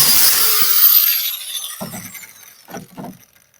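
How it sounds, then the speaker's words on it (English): A drill bores into a log to make holes for mushroom inoculation: a loud, high whining burst as the bit cuts into the wood, then the whine winds down and a few short knocks follow. "right now I'm just drilling the holes"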